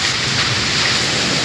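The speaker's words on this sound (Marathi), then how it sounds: "अवकाळी पाऊस आला रे अवकाळी पाऊस" Unseasonal storm rain pours down in a dense, steady hiss with no breaks, loud and close, and no voices are heard.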